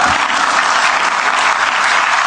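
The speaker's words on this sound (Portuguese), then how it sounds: "E as pessoas aplaudem." An audience claps steadily and densely throughout, a continuous wash of applause with no speech over it.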